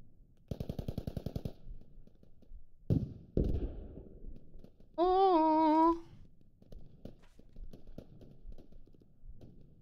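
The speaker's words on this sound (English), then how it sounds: "Gun sounds are fucking awesome in this." Rapid machine gun bursts from the tactical shooter game Squad: a loud evenly spaced volley, then a couple of heavy single shots, a brief rising tonal game sound, and scattered quieter clicks and distant shots.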